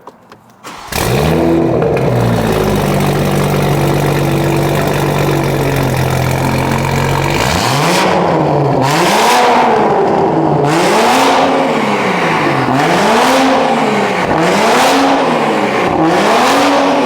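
A Toyota Supra A90 track car with a downpipe starts up and idles loudly, then revs repeatedly in rising and falling sweeps, close and alone with no talk.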